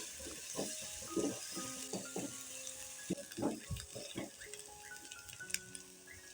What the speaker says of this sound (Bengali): পেঁয়াজটা দিয়ে ভালো করে পেঁয়াজটাকে ভাজতে হবে যেন পেঁয়াজের কোনো রকম কোনো কাঁচা গন্ধ না থাকে